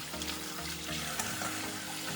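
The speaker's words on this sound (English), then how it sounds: "just put them under running water" Tap water running steadily over frozen crabs in a sink, a close, continuous splashing hiss with a low rumble and no voices.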